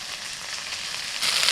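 Chopped onions hitting hot oil with salt and turmeric for a rohu fish dish, a loud hissing fry that swells sharply near the end.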